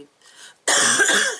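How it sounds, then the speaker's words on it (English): A single loud, harsh cough bursts out close to the microphone after a brief soft throat noise, rasping for most of a second before trailing off. "that was a big cough."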